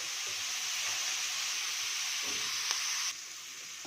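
Chopped vegetables for upma sautéing in a pan, with a steady, close hiss and sizzle that holds throughout and drops in level near the end.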